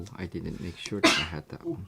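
A single sharp sneeze bursts out midway through casual talk at a home card-making table, with people speaking before and after it.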